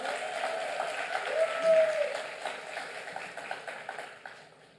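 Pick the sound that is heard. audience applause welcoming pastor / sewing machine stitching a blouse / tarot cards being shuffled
audience applause welcoming pastor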